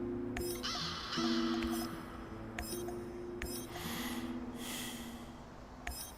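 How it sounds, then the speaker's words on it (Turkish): Heavy, rasping breaths from a character in the video game Chernobylite, several gusts of air over a low sustained musical drone and faint game ambience. "Nefes alma sesi."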